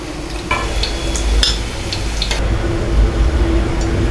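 Potatoes and cauliflower fry in oil until golden, a steady loud sizzle with scattered clinks and scrapes of a spoon stirring in the pan, no voices.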